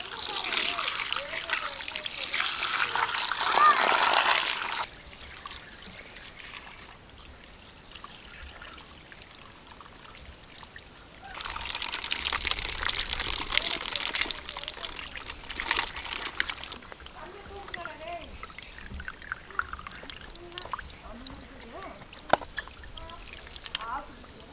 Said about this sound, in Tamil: களிமண்ணை கொட்டி தண்ணி ஊற்றி ஊற வச்சிடலாம்.